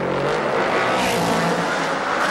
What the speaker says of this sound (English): You can hear the wheel spin.